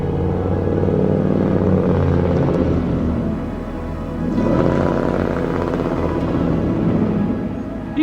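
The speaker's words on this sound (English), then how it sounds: "that truck that just wants to make noise because I'm videoing" A noisy truck rumbles past on a road, its heavy engine drone swelling loud and near, easing slightly midway, then surging again before fading toward the end.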